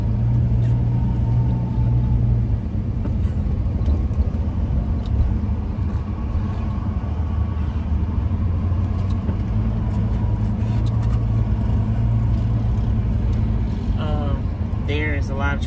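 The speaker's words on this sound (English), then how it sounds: "There is a lot of traffic right now." Steady road traffic rumbles past throughout, a continuous low drone of cars and heavier vehicles. The traffic is moderately loud and close, as if heard from inside or beside a van on a busy road, and it never lets up.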